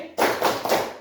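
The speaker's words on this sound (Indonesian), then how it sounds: "Tepuk tangan dulu." A classroom of children claps in unison, three quick rhythmic group claps in a short burst, fairly loud and close.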